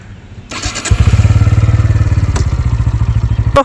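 A motorcycle ridden by a beginner learning to ride: the engine catches and settles into a loud, steady close chugging idle with rhythmic pulses, a brief clatter midway and a sharp knock near the end.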